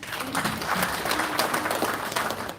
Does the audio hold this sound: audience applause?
yes